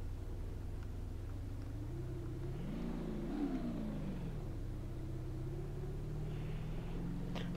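A car engine in the BeamNG Drive video game rises and falls in a muffled rev around the middle, then settles back to a low, steady drone at fairly quiet volume.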